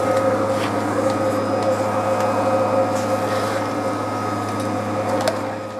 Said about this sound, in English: this thing kind of also will double as a shop vac, so I can clean some of this mess up